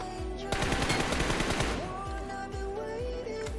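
Game gunfire in BGMI, a battle royale shooter: a dense burst of rapid automatic shots for about a second, then a few separate single shots spaced apart, loud and close over background game ambience.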